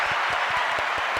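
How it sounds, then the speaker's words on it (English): Several rhythmic hand claps from a small group, close and steady over a brief, even background hiss. "The most awkward hand clapping."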